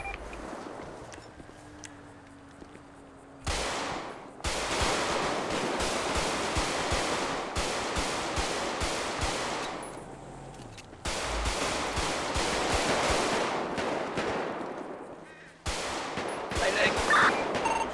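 Gunfire in GTA 5 roleplay comes in long, loud sustained bursts of automatic fire, three heavy volleys separated by brief lulls, with faint voices in the gaps.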